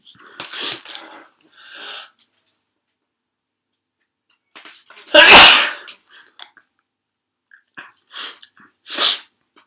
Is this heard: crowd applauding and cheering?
no